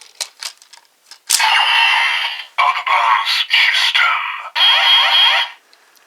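A Kamen Rider Drive DX Brake Gunner toy plays loud electronic sound effects: a few quick clicks and beeps, then bursts of bright synthesized tones and sirens in several sustained segments with short gaps.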